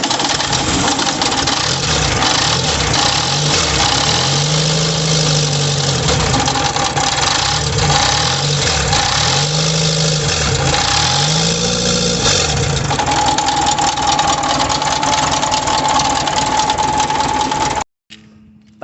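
A Volkswagen Beetle (Fusca) engine with a belt and alternator problem runs steadily and loudly close by, its idle rising and falling in repeated surges with a whining belt tone, then cuts off abruptly near the end.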